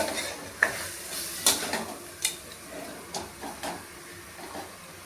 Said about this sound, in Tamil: ஒரு 2 நிமிஷம் அப்படியே லைட்டாக பெரட்டி விட்டு